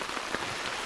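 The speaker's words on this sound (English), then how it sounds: "And of course, it's really raining quite hard now." Heavy rain pours steadily onto surfaces during March flooding around a house, a dense, continuous hiss of drops with no voices.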